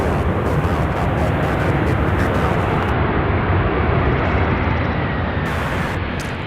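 Heavy UPS freighter aircraft engines at SDF airport produce a loud, steady broadband roar that fills the whole stretch without letting up, close and powerful.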